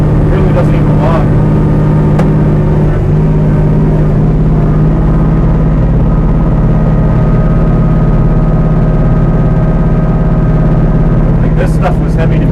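A Kubota B2650 tractor engine runs loud and steady while its snowblower throws compacted, wet, heavy snow, a constant low drone with whirring from the blower and a few brief sharper noises.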